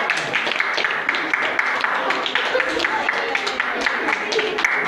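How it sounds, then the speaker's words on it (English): A small audience claps after a Jonah and the Whale puppet show, steady patter of hands throughout with voices talking over it. "Come on, give him a clap."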